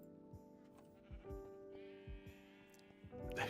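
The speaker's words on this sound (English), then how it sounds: "Those sheep are so noisy." Sheep in a survival video game bleat repeatedly, several wavering calls overlapping amid low thuds and other game sounds, fairly quiet, with no talking.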